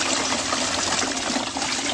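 Water poured steadily onto jasmine plants in a garden, a continuous close splashing gush with no voices.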